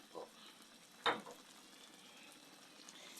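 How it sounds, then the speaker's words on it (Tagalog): Chicken curry with fish sauce simmering in a pot gives a faint, soft bubbling sizzle, with a brief louder clink of a utensil near the start and no talking. "So, kumukulo na ang ating chicken curry."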